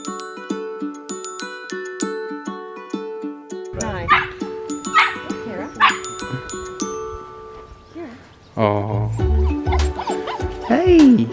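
Puppies at a New Zealand puppy farm yip, bark and whimper in bursts, close and fairly loud, with light background music at the start and people talking and exclaiming over them.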